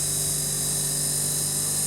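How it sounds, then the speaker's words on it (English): An Alfa Laval milk tank compressor runs continuously, a loud, steady mechanical hum with a high-pitched whine layered over it, close by and unchanging. "There we go, that's the compressor running."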